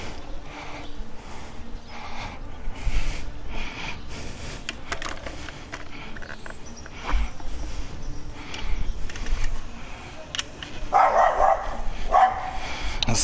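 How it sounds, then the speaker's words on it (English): A neighboring dog barks repeatedly at a distance, sharp scattered barks over several seconds amid faint clatter from someone working with tools nearby. "that's my neighbor's dog"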